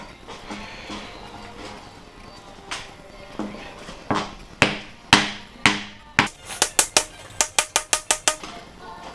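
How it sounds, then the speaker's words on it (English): Plastic hammer tapping a hose ferrule onto a braided hose fitting for a car's rear radiator, starting with a few spaced knocks, then a quickening run of sharp, close taps. "Trusty plastic hammer."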